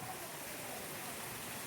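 Heavy rain pours steadily across the Karwar countryside, a dense, unbroken hiss with no distinct drops standing out, short and fairly loud.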